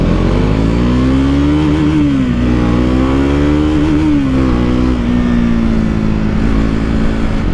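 A 2024 Triumph Scrambler 400 X, a 400cc single-cylinder motorcycle, revs hard under throttle, its engine note climbing and falling steadily through several swells, loud and close with no talk.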